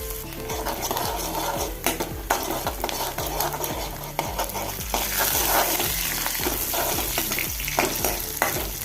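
A large onion, finely chopped, frying in a pan on the stove for rajma curry. A spoon or spatula scrapes in steady, rhythmic strokes over a constant bright sizzle, close and fairly loud, with no talking.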